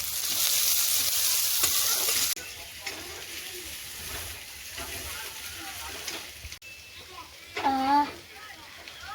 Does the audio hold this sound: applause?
no